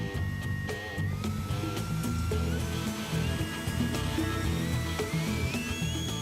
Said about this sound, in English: It's now time to power up this motor at a test station.